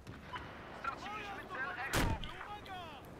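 A single loud gunshot blast with a booming tail in the video game Battlefield cuts through someone speaking, set against game-like background noise.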